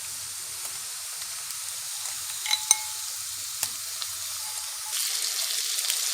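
Marinated chicken and onions frying in a pan for chicken noodles give a continuous close hiss and sizzle, with a few sharp utensil clicks and scrapes, and the sizzle grows louder near the end.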